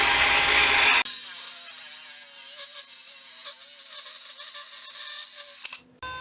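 A bandsaw cuts through cedar wood, a sustained close whining hum with a high rasping edge that holds steady for several seconds before cutting off, following a louder burst at the start.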